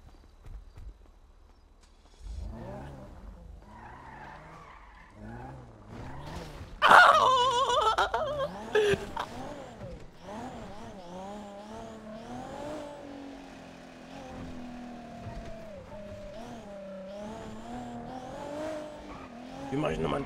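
Car driving in the GTA RP video game, engine sounds rising and shifting as it accelerates, with tire noise and game effects, moderately loud under occasional voices.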